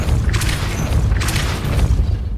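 The Depulso spell cast in Hogwarts Legacy: loud booming bursts with a heavy low-end rumble, two strong hits about a second apart followed by a lingering crash.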